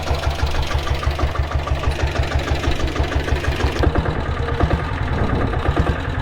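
A 6.5HP diesel Bullet motorcycle engine runs steadily nearby with a loud, even low thumping beat that holds for several seconds without pause.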